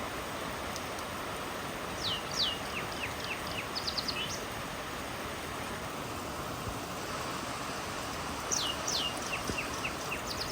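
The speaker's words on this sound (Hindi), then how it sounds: "यहाँ पे देखो चिड़िया भी है, ये रही छोटी सी चिड़िया।" A small bird sings outdoors in a green picnic spot, brief high chirping phrases at a distance in two short bursts over a steady background hiss of rustling.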